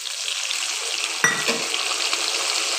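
Ground ginger, cumin and green chilli paste drops into hot oil in a frying pan for a Bengali rohu fish curry, setting off a loud, steady sizzle with a brief clatter as it lands.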